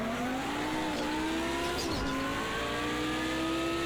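Race car with 720 horsepower pushes hard toward the finish in Project CARS 2, its engine revving and climbing in pitch with a steady, loud, close roar and faint tire noise, no talk.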